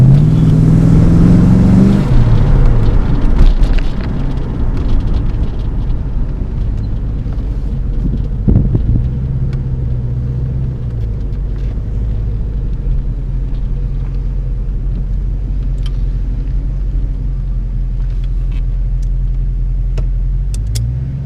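A low-mileage, stock original Fox-body Ford Mustang 5.0 V8 runs while being driven through its gears. The steady engine rumble rises and falls with each shift, heard from inside the car with some wind noise.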